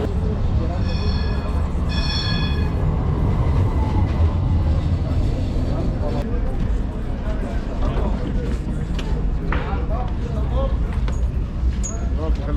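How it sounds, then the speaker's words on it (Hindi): Busy train station in Istanbul during Ramadan shortly before iftar, with a steady roar of crowd and rail noise, brief high squeals and tones, and people talking throughout. "भाई ट्रेन स्टेशन पे रश देखो लोगों का।"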